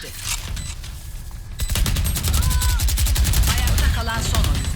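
Gunfire in the video game Valorant, rapid bursts of shots that swell into a sustained loud volley, with a voice talking over the action.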